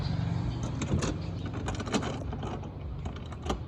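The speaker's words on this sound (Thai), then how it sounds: "เป็นช่วงกำลังติดตั้งน็อตยึดแคมใต้เต็นท์นะครับนี่มา" Bolts holding a Wildland Bush Cruiser v2 Pro XL rooftop tent are tightened from underneath, giving close metallic ratcheting clicks and rattles in irregular bursts over a steady background.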